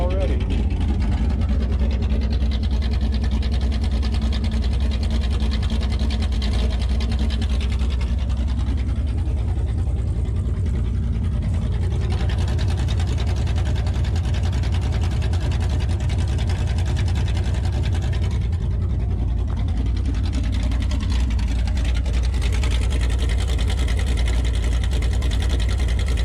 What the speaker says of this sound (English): Hear the wheezy nature of the engine and somewhat tractory.